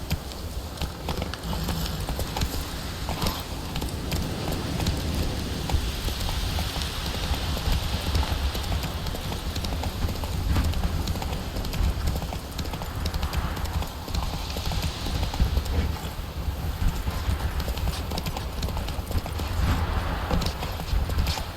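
Roach the horse gallops in The Witcher 3 video game, a steady rapid clip-clop of hooves running continuously and loudly, with an occasional faint whinny, no talking.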